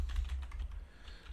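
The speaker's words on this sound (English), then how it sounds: "I'm tired of typing" Quick keystrokes on a computer keyboard tap out a fast, uneven run of soft clicks close by, with no talking over them.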